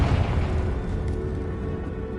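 A Confringo fire spell explodes in Hogwarts Legacy, a loud booming blast with a rumbling, crackling decay that fills the whole moment with no talk.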